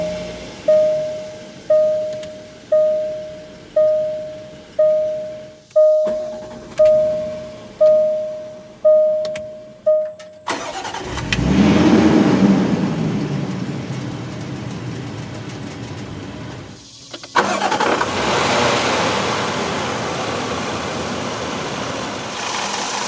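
A 2015 Range Rover HSE is push-button started: a steady chime pulses about ten times, then the engine cranks and catches with a loud burst before settling into a smooth idle, a second rise in revs following near the end.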